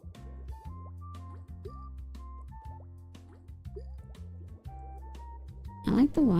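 Drippy, squishy water-drop sound effects from the Suika Game puzzle game, a few bright plinks bursting near the end over steady looping game music and a talking voice.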